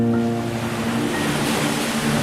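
Ocean waves at high tide on a dark coast, a continuous full roar of surf heard close with a low steady hum running beneath it.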